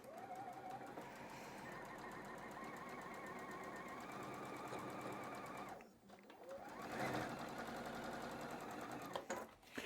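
A sewing machine stitches patchwork pieces with a continuous rapid whirring hum, stopping briefly partway through before running again, close and steady.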